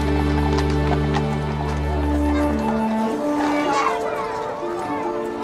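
Twelve bay carriage horses and a grey team at the Royal Mews move at a steady clip-clop, their hooves sounding over a sustained low musical hum, with mixed background noise throughout.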